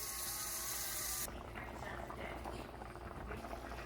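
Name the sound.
pinto beans simmering in a pot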